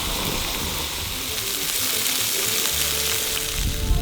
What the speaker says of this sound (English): Casey brought the burger patties. We're gonna fry them up.